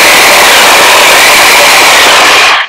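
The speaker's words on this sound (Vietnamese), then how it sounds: "Thì nhìn như một cái súng nhưng mà thật ra nó là cái cưa." DeWalt reciprocating power saw fitted with a wood-cutting blade, running with a loud, steady buzzing whine that holds for about two and a half seconds before cutting off.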